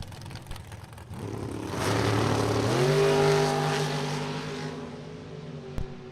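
Drag racing engines at the launch of a 1963 Chevrolet Corvette roadster and a dragster, a loud rising roar with steady harmonic drone swelling from about two seconds, then fading slightly toward the end.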